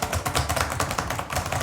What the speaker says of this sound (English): Like these keys, they're like extremely loud.